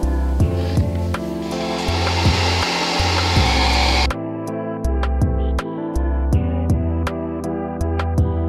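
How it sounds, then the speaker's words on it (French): A hair dryer blows on a wet painted Metal Gear Solid 4 diorama, a loud steady whoosh running for about four seconds before cutting off, while rhythmic background music continues underneath. "Mettre un petit coup de sèche-cheveux."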